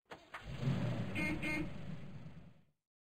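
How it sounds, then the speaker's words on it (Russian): A car rumbles past nearby, a low engine roar swelling and then fading out after a couple of seconds. "Автомобиль."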